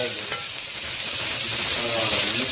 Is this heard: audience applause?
no